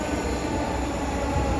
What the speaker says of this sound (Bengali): একটি ট্রেন আসতেছে